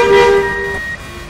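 A bus horn in the video game Euro Truck Simulator 2 gives a sustained car-style tone with a steady pitch for under a second, then cuts off, leaving a faint low engine hum.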